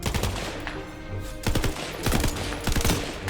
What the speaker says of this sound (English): I kind of like SMGs. They shoot pretty quick, do a decent amount of damage.